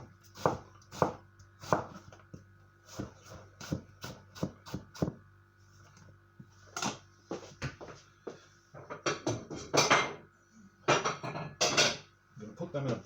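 A big kitchen knife chops vegetables into small cubes on a board for spaghetti Bolognese with meatballs, giving a quick series of sharp, close knocks in irregular bursts, with a person talking over parts of it.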